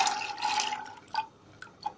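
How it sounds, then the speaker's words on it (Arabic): Tap water pours into an empty cooking pot in a steady splashing rush that fades into a few scattered drips and clinks, with no voices. "هنجيب حلة فاضية كده، هنحط رطل من المية فيها، مية من الحنفية عادي"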